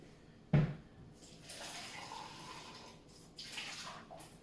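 Running water splashes while a container is rinsed out in a kitchen, preceded by a sharp knock and rising in soft, uneven bursts, fairly quiet and close with no talking.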